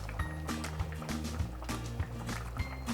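A pot of borscht simmers gently, soft bubbling and liquid movement with regular low pops, steady and close.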